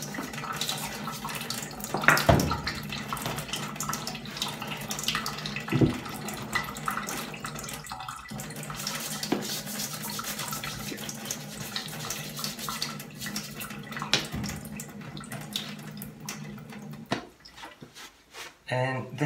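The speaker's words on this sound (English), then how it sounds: "And I'm just going to wash off the sole." A tap runs steadily into a sink while a Red Wing Iron Ranger leather boot sole is rinsed, with splashes and water breaking over the sole under occasional quiet talk.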